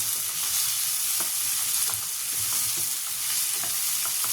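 Tomatoes frying and being stirred in a pan over a full-high gas flame, a steady loud sizzle with scraping stir strokes throughout, no voices.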